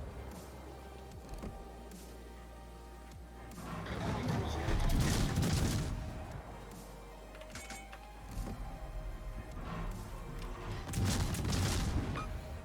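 Naval gunfire from a Tier VI German cruiser, the Nürnberg, in World of Warships: deep booming salvos in two or three heavy bursts over a steady engine rumble, with rolling low thuds trailing each volley.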